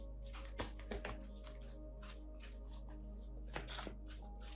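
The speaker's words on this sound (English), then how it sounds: "I'm just going to shuffle till it feels right" Quick riffling bursts of tarot cards being shuffled, a few crisp flurries spaced apart over a steady low hum, close and fairly quiet.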